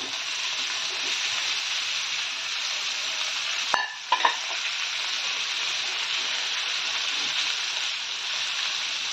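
Potato and cauliflower fry in a pan for a prawn dish with a continuous bright sizzle. Near the middle, a brief metallic clink of a utensil and a couple of stirring knocks cut through it.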